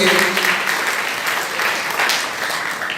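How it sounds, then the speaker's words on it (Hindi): Audience applause at an Arya Samaj annual festival in Rohtas Nagar, Shahdara, a loud, steady clapping from a crowd that holds for a few seconds before easing slightly. "एक बार सभी जोरदार तालियों के द्वारा आचार्य जी का धन्यवाद घोषित करेंगे"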